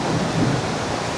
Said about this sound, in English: And it is thundering over there.